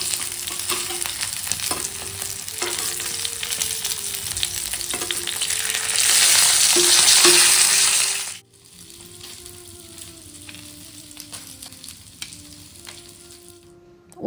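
Fish fries in a pan with a loud, continuous sizzle and crackle that swells for several seconds, then drops abruptly to a quieter simmering hiss with occasional spatters.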